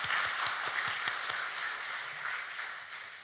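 A church congregation applauds the choir after a hymn during a Sunday worship service, with a steady wash of clapping from across the room, fairly even and unbroken throughout.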